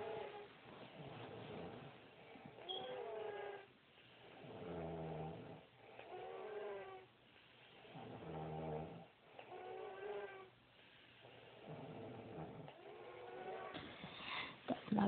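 A woman and a baby snore loudly while asleep: slow, rhythmic, rasping breaths rise and fall about every two seconds, close and steady through a narrow, phone-like recording.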